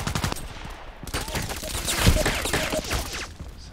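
Rapid Glock pistol shots in the shooter video game Contract Wars, a dense loud burst of sharp cracks firing in quick succession, close and dominant throughout.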